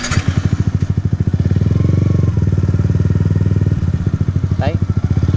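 A manual-clutch motorcycle engine runs close by with a loud, steady, rapid chugging pulse, holding an even idle-like rhythm with a brief dip midway, while someone speaks over it.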